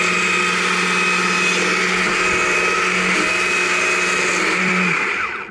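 A chainsaw carving a small owl into wood runs loud and steady close by, its engine held at a constant high buzz that eases off at the end.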